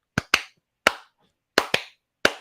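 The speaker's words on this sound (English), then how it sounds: "Like hand claps and stuff." Crisp hand claps ring out alone in a quiet recording: six sharp, close claps in loose pairs and singles, each with a brief decaying tail and silence between them.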